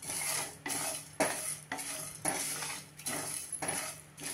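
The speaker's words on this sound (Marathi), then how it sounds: "आता हे सगळं पुन्हा 2 मिनिटं भाजून घेऊया" Whole spices such as cloves, star anise, black cardamom, cinnamon and black peppercorns are being dry-roasted in a pan. A spatula scrapes and clinks against the metal in regular strokes about every half second. The sound is close, with no voices.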